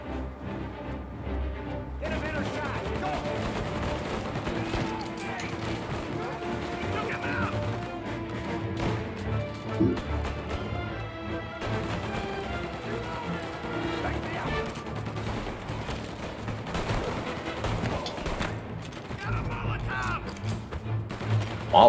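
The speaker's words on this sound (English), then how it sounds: "I'm shooting the wall" Gunfire in Mafia: Definitive Edition, dense bursts of shots and impacts against a wall running through the whole stretch over game music, loud and busy with little pause.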